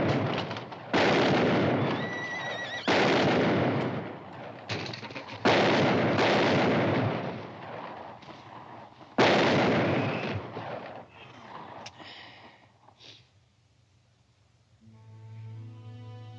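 Gunfire in a film duel scene, several sharp loud shots spaced a few seconds apart, fading into quieter sounds at the end.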